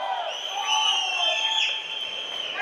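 A live audience at a Kannada film event cheers and shouts together in a dense, bright roar lasting a few seconds, close and loud, with scattered whoops over the crowd noise.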